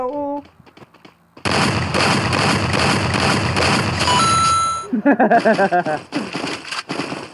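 Gunfire in Garena Free Fire mobile shooter: a dense, loud stretch of rapid shots lasting several seconds, then a burst of separate sharp reports, with game music and effects around it.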